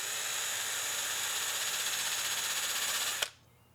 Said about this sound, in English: We finished off the evening grinding off all the old black paint and the rust off the steering wheel.